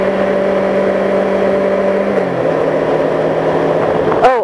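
Kawasaki Ninja 500 motorcycle engine running close by with a steady low hum, its pitch dropping midway, then a quick rising rev near the end.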